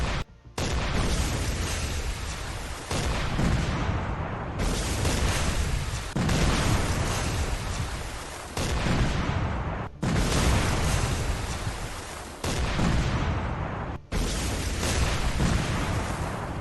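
Naval guns fire in Command: Modern Operations, heavy booming blasts repeating every couple of seconds, each a loud close burst that trails off before the next round.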